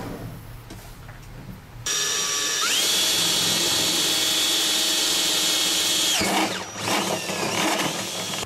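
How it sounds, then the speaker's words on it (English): A power drill with a multi-step bit bores holes in electronics boxes, whining loudly for several seconds, its pitch rising as it works through the metal, then stopping and briefly starting again. "Using a multi-step drill bit, drill the holes in the boxes and join them together using the flex conduit."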